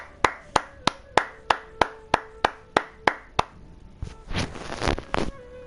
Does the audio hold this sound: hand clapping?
yes